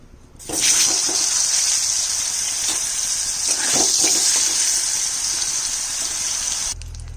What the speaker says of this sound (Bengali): মিষ্টি কুমড়া ভাজবো এখন।